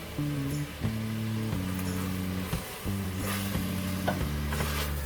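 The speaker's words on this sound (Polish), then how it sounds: "Ogień na maksa i podsmażamy te warzywa." Soft frying sizzle of vegetables in butter in a pan over high heat, with occasional stirring scrapes, beneath steady tonal background music.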